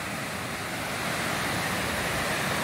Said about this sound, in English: I hear the waterfalls.